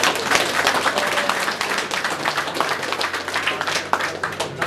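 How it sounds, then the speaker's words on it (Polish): Audience at a powerlifting competition in a gym claps and cheers steadily, a dense continuous patter of many hands with scattered shouts, moderately distant and filling the room. "Brawa!"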